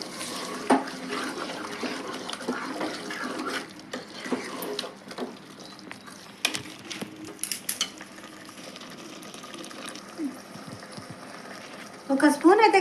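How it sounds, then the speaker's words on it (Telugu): A spoon scrapes and clinks against a pan while boti curry with tomato paste is stirred, soft wet bubbling underneath, with intermittent talking over the cooking. "ఇప్పుడు ఒకసారి అయితే కలుపుతాను."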